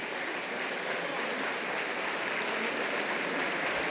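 Steady, dense applause from an audience for the folk cultural group Guayadeque at a regional folklore gathering, sustained and even throughout with no talk over it.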